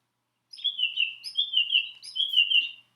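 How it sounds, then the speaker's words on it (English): Song thrush song played from a push-button baby sound book: a short run of bright, repeated whistled phrases in quick succession, clear and close with no talk over it. "This is a song thrush that you're listening to."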